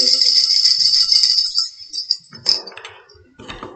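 A toy rattle shakes with a bright jingling rush for a couple of seconds, then breaks into a few separate shakes and clinks, close and fairly loud.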